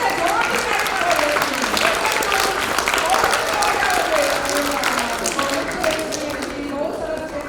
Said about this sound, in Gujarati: બધા જોરથી તાળી પાડો